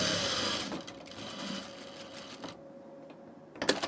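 A sewing machine stitches a bias-cut dress, its needle running in a steady fast whir that slows and fades toward the end before a few clattering knocks.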